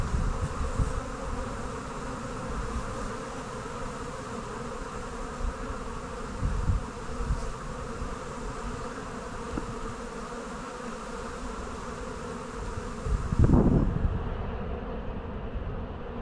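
Honeybees at an open hive during a Taranov split hum in a steady, close, dense buzz that continues throughout, with a brief louder rustle near the end as the sound cuts.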